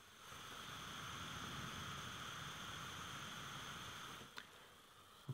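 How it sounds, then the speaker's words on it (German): The cooling fan of an OBSBot Tail AI camera, held close to the microphone, gives a steady faint whirring hiss with a couple of thin tonal whines, then drops off near the end with a small knock. "dafür hat die Opsport einen Lüfter. Und der ist auch hörbar."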